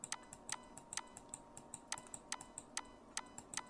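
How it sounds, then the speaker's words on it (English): Quiet, close clicking from a computer mouse, repeated one at a time at an uneven pace with short pauses between groups, heard alone over a faint steady hum. "Now just click one at a time."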